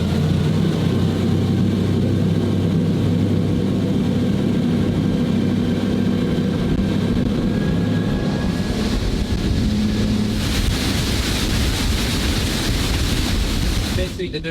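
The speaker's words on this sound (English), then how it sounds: "Let's check out the engine, the purring." An Axopar 45 Sun Top cabin cruiser's engines drone steadily at around 20 knots, a loud continuous roar mixed with wind buffeting and rushing water that swells near the end.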